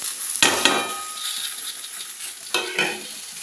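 Pointed gourd (potol) pieces fry with a soft steady sizzle in a pan while a utensil stirs them, giving two bursts of scraping and clatter, close and clear with no talking.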